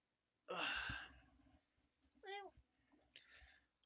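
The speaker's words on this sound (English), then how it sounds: "he's my cat, my sister's cat" A pet cat makes a soft, drawn-out meow with a rising-falling wavering tone, between a breathy sigh-like noise and a later faint murmur, all quiet and close.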